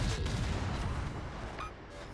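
Ship guns firing in World of Warships during a cruiser battle, heard as a dense, continuous low rumble of booming salvos with a slight drop in intensity toward the end.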